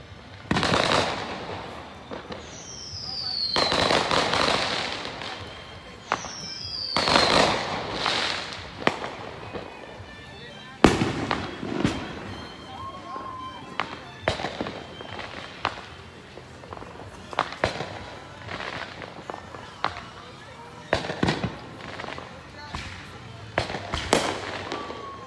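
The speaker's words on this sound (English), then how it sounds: "There's fireworks all around us." Fireworks and firecrackers crack and burst repeatedly all around during a Fourth of July evening by a backyard fire, some blasts sharp and close, others distant, with a few whistling rockets rising between the bangs.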